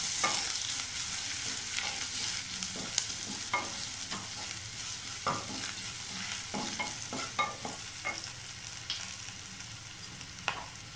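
A spoon scrapes and stirs through potato masala frying with salt, chili powder and pepper in a pan, steady sizzling underneath with irregular close knocks and scrapes of the utensil against the metal.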